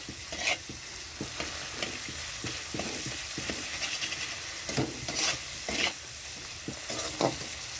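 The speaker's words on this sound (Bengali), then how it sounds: "টমেটো নরম হয়ে গেছে তো খুব ভালো মতো একটু কষিয়ে নিতে হবে" Softened tomatoes being stir-fried in a pan for a pabda fish curry give a steady low sizzle, broken up by repeated scraping strokes of a spatula at an irregular rhythm, close by, with no talking.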